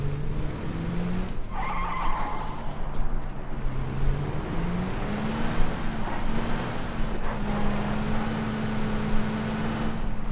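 A car driving in PUBG (PlayerUnknown's Battlegrounds), its engine note rising and holding steady with tyre skids and scuffs, loud and continuous, with no talk.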